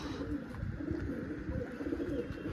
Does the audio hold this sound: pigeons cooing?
yes